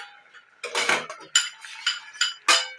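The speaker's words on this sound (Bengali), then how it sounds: "এবার আমি ঢাকনাটা খুলে দেখব।" A pot lid is lifted off a pan of simmering bata fish curry, giving a few close metallic clinks and scrapes in short bursts, with no talking.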